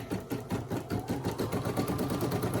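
A Brother SE1900 embroidery machine stitching, a fast, even, rhythmic mechanical whir and needle clatter, close and steady, with no talking.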